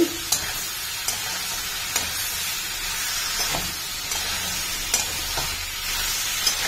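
Fried cauliflower is stirred in a hot frying pan, with a steady loud sizzle broken by repeated scraping strokes of the spoon at an irregular pace.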